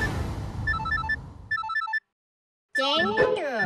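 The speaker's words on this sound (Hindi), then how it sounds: "ये रिंग की आवाज आसपास से कहां से आ रही है?" Telephone ringing in repeated electronic ringtone bursts, two short patterns and then a pause, followed by a voice speaking nearby.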